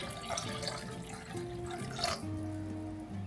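Tap water runs into a soup pot for zuppa toscana, a steady close stream whose pitch slowly rises as the pot fills.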